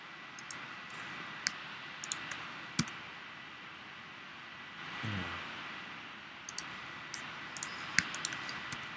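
Sparse, faint mouse clicks tick irregularly at a computer while a 3D model is being edited in Blender, over a low steady background hiss with no voices.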